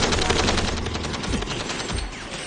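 Multiple machine guns blaze in a scene from the anime Hellsing Ultimate, a dense, continuous rattle of rapid-fire shots that stays loud and unbroken throughout.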